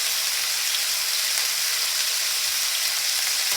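Squash (kalabasa) sizzles steadily in a hot frying pan, a dense, even crackle of oil that holds at a constant level throughout with no voices.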